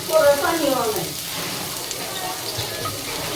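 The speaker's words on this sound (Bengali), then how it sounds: "এখন তেল দিয়ে দিলাম অল্প পরিমাণে, বেশি না। সাথে পেঁয়াজগুলো দিয়ে দিলাম।" Onions hit a little hot oil in a pan, a loud burst of sizzling and splattering at first that settles into a steady, softer frying hiss, with a voice briefly heard.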